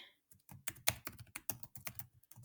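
Rapid, uneven keystrokes on a computer keyboard, close and fairly quiet, clattering in quick bursts with short pauses between them.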